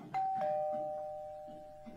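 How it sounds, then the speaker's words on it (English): A two-tone doorbell chimes inside a video game map, a clear ding-dong that rings out and slowly fades, with faint background noise beneath. "this doorbell, I love this sound. It always gives me the creeps."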